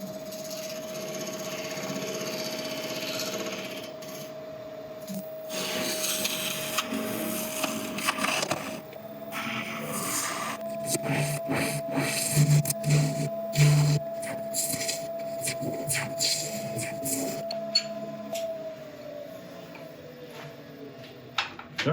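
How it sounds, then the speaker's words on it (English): Boxwood box base being flattened and recessed on a woodturning lathe, a steady motor hum running throughout while the tool cuts in uneven scraping bursts, fairly close and continuous. "I'll quickly flatten off the base and put a recess in there"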